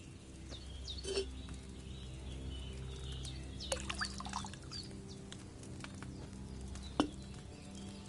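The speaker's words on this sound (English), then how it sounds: "First, you have to pour the right base into the cauldron." Wine pours into a cauldron in the medieval video game Kingdom Come Deliverance 2, a soft, faint trickle and splash over a low ambient background with a few sharper clinks and a bird chirp.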